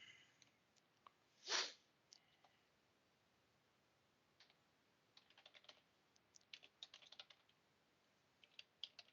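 Light, quiet keystrokes tap on a computer keyboard while text is entered in a web app builder: scattered single clicks, then a quicker irregular run of typing, with one louder burst early on.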